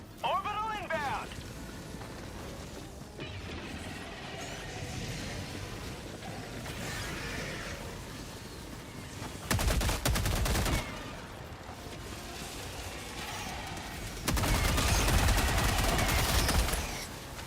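Assault rifle gunfire in Helldivers 2 on a Helldive difficulty 9 mission, bursts rattling loudly at two points amid battle noise, with a voice talking in between.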